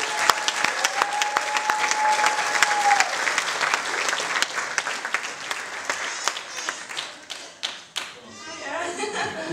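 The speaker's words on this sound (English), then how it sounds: "Give her a big round of applause." Applause from a crowd indoors fills the room with dense, steady clapping that swells and then tapers off, a few individual claps standing out near the end amid faint murmuring.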